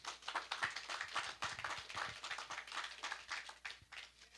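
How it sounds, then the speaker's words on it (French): A church congregation claps, a quiet, sparse patter of individual hand claps at an uneven rhythm, faint and somewhat distant in the room. "Applaudissons-les, je vous prie."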